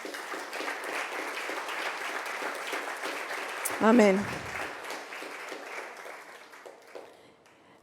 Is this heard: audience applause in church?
yes